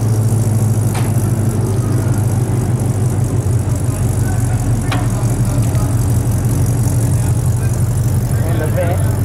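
An old Chevrolet Camaro engine runs with a steady, loud mechanical rumble and rattle that holds throughout, with a few faint clicks on top and some voices in the background.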